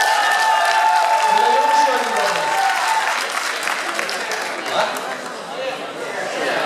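Audience applause at a university beauty pageant duel, a steady wash of clapping from a large crowd that swells early and then carries on more unevenly, with some chatter and a voice mixed in.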